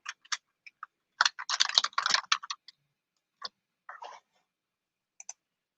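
Keys clatter on a computer keyboard as commands go into a terminal, close and crisp: scattered single taps, then a fast dense burst of typing, followed by a few isolated clicks and short runs over near silence.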